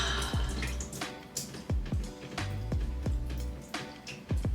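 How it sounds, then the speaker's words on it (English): Water drips steadily, about ten distinct plinks with a roughly even rhythm over a faint background hiss, close and moderately quiet. "I'm trying to talk over this dripping water."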